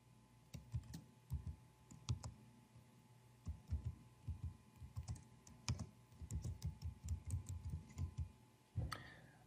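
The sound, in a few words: typing on a computer keyboard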